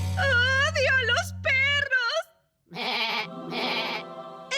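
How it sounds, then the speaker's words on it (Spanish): A cartoon dog bleats like a goat, with several quavering wavering cries in quick succession, loud and close, followed by other voices. "Tu perro habla como cabra."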